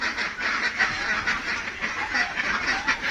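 Ducks quack continuously on a farm, a flock of several birds calling over one another in a steady, fairly close chorus with no talk.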